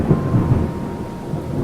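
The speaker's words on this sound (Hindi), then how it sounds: "एक बार जोरों की तूफान और बाढ़ आ गई" A thunderstorm rumbles low and continuously under a steady wash of heavy rain, a deep booming roll filling the whole brief moment without a break.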